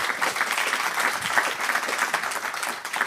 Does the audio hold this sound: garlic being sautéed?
no